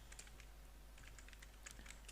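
Keys clatter on a computer keyboard as a class name is entered in Google Classroom, light irregular clicks coming in quick bursts, close and faint, with no voices.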